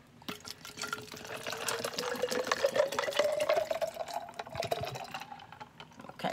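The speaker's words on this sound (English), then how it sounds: "so you fill it with your ice and your water" Water and ice poured into a Drink Finity bottle make a continuous splashing fill, with ice clinking and a rising gurgle as the bottle fills, and no voices.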